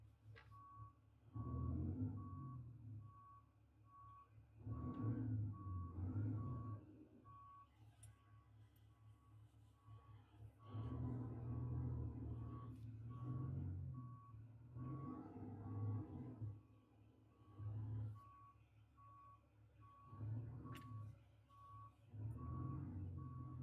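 Video game truck backing up with a trailer, its reversing alarm beeping steadily over a low engine rumble that rises and falls.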